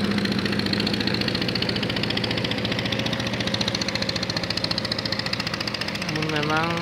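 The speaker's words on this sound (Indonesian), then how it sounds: "di belakangnya kita juga melihat ada sebuah speedboat" A speedboat engine runs at the KP3 port in Kuala Kapuas, a loud, steady, throbbing drone with a fast pulsing rhythm that shifts in pitch near the end.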